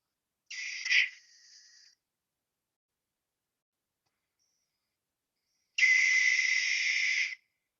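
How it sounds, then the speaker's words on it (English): A barn owl gives two harsh, hissing screeches separated by silence, the first shorter with a rough burst, the second a sustained rasping shriek. "That's a barn owl."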